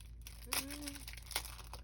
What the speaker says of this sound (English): Oh, I ripped the whole bag.